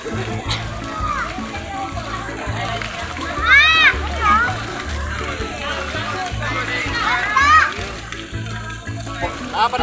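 Children shout and chatter while water splashes and sloshes around them, with a steady rumble in the background.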